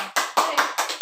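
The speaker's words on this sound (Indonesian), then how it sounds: "tepuk tangan untuk kita semua" Students in a classroom clap together in a rehearsed rhythmic pattern, with loud, close bursts of claps separated by short pauses, about five beats in just over a second.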